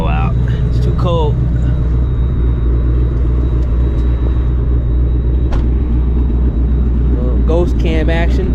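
A catless S650 Mustang GT with a ghost cam, running E85, idles with a deep, loping rumble that holds steady throughout. Speech comes in briefly near the start and again near the end.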